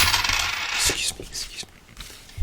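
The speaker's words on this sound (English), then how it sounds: "that was some coins" Coins drop and clatter near at hand, a burst of metallic jingling that settles into a few scattered clinks and rattles, ending with a sharp knock; nobody speaks.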